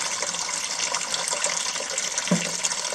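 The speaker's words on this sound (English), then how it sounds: "I need to wash it or soak it in water before we can use it." Running water washes over a young banana stem's sticky inner part during curry prep at a vegan camp, a steady close splashing flow alone, with one brief thud near the end.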